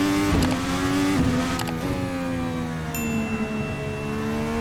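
Modern IndyCar, the NA 2021, lapping Laguna Seca in a racing game on cold tires, its high-pitched engine climbing and dropping through several rapid gear changes, loud and close.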